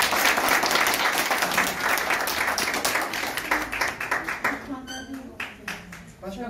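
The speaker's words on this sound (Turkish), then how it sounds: "Bir alkış yapalım." Dense applause from an audience welcoming the general president of the Türkiye Beyazay association at its Kırşehir branch, loud and steady at first, thinning toward the end as a voice begins speaking.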